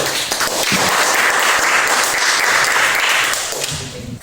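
Sustained applause from a classroom audience after a student group's presentation, loud and steady clapping from many hands for about three seconds before tapering off.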